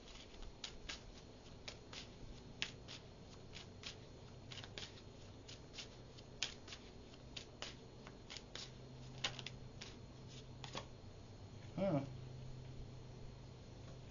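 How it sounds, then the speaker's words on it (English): Soft riffling and snapping of tarot cards being shuffled, repeated quick clicks in a quiet room, faint and close, with a brief rustle near the end. "If I can shuffle the cards"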